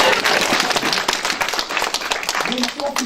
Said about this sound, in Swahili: Nipigie makofi kama unalala.